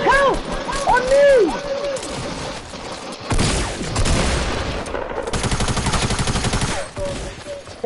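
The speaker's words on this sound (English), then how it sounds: "And they're getting shot at." Rapid gunfire bursts in a Fortnite match, loud and close, with crackling volleys and crashes that run for several seconds while players shout over the action.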